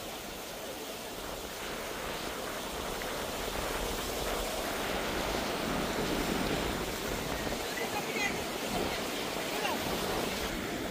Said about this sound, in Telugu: చాలా విండ్ ఉంది, ఫుల్ గాలి కొడుతుంది ఒక పక్క నుంచి